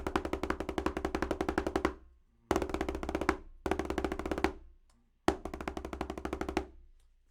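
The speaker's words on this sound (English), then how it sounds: "And then last but not least is the double stroke roll." Double stroke roll played on a drum, two strokes per hand motion, heard as four dense bursts of rapid, even drum strokes, each building then stopping abruptly, close and alone.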